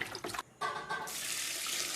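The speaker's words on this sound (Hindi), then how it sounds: "भाई जाने से पहले पौधों को पानी दे देता हूँ अपने, ये तो सूख जाएंगे भाई।" Water running onto potted plants being watered, a short splashy pour with a brief gap near the start, then a steady close hiss of flowing water with no talk.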